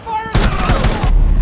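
C4 blast in the video game Rainbow Six Siege: a single sudden, loud, close explosion with a rumbling body that lasts under a second, then a lingering roar.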